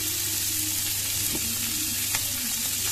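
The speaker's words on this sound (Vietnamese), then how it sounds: "mình rán ít dầu như này" Crucian carp frying in a shallow layer of oil, a steady close sizzle and crackle running throughout with a couple of brief spatters, no voices.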